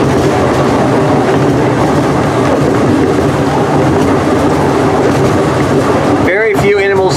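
Zoo train ride at the Milwaukee County Zoo, a steady rumbling rail clatter with dense wheel and carriage noise filling the whole clip, loud and close, with faint voices mixed in and a brief tonal squeal near the end.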